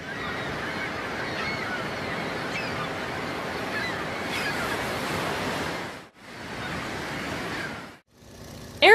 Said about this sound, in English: Battleship.